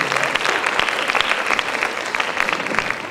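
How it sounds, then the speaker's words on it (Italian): Audience applauding the jury at a classical and neoclassical competition evening, dense sustained clapping from a sizable crowd, loud and even throughout. "Io farei davvero ancora una volta un applauso alla nostra giuria."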